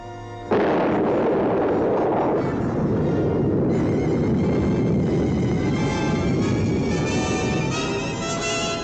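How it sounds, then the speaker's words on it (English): Bombs explode in the 1955 cartoon Good Will to Men, a loud, sustained roar of blasts that bursts in abruptly and rumbles on continuously, with layered crackling debris throughout. "the other one was dropping a bomb over there"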